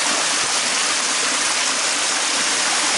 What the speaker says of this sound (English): There's the top of the waterfall.